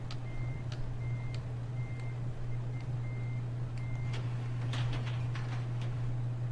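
Truck reversing beeps from Farming Simulator 2013 repeat in a steady even rhythm of short tones over a constant low engine drone, with a few clanks and hisses toward the end.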